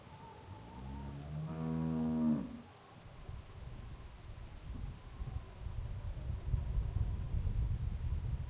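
A cow in The Walking Dead video game lets out a single drawn-out moo, close and clear, over a quiet windy outdoor ambience.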